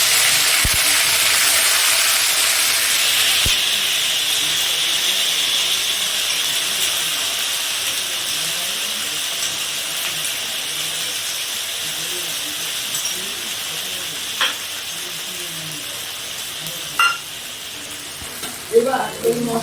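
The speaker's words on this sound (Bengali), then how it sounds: "আদা, ধনে আর কাশ্মীরি লঙ্কা মিক্সড করে রেখেছি, সেটা এইবার তেলে ছেড়ে দেব।" Ginger, coriander and Kashmiri chili paste frying in hot oil gives a steady, loud sizzle and hiss, with brief stirring clatters toward the end.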